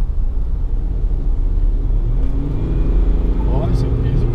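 Ford Ranger Limited V6 pickup driving through a São Paulo neighbourhood in late afternoon, a steady loud low engine and road rumble from inside the cabin with a brief rise in revs, under talk.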